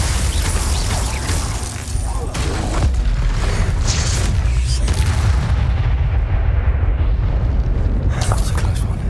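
Confringo spell explosions in the video game Hogwarts Legacy sound as loud, repeated booms and blasts over dense battle noise and music, with a voice speaking in the clip.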